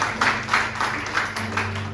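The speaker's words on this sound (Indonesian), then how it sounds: "Yuk sekali lagi tepuk tangan buat kita." A small church congregation claps in steady, rhythmic bursts during a Pentecost Sunday service, the claps fairly close over a low, constant hum from the room.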